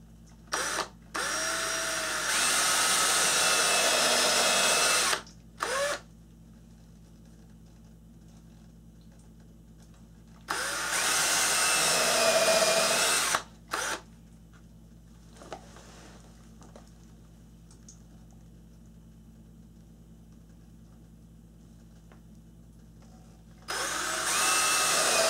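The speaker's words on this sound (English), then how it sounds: "so that's the first set of holes drilled" A power drill boring sets of holes through a wooden floor joist during a bathroom remodel, several loud whirring runs of a few seconds each, separated by quiet pauses and short trigger blips, close by with no talk.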